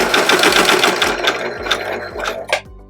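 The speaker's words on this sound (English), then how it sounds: "we're going to stitch right to the edge," A serger sewing machine runs steadily while stitching unpaper towel fabric, its needles chattering in a fast, even mechanical rhythm close up, with a brief surge near the end before stopping; no talking.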